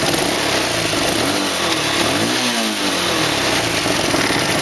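An X18 super pocket bike's small engine revs loudly up close, rising and falling in pitch as the throttle is blipped over a constant buzzing idle.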